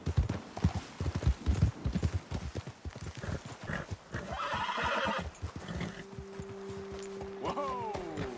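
Horses in the Red Dead Redemption 2 video game gallop with rapid hoof clip-clops, then slow as one neighs loudly near the end, with a voice and game music beneath.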